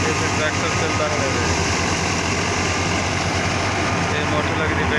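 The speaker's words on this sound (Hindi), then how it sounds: "ट्रैक्टर चलता है" A tractor engine runs steadily during a village wheat harvest with a thresher, a loud, constant mechanical drone with deep low rumble and no pauses.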